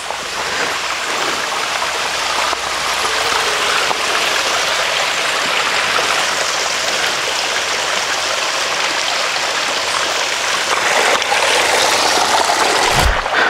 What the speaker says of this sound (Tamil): கைஸ் தண்ணி நிறைய போகுதுன்னு நினைக்கிறேன் அந்த நீரோடையில்.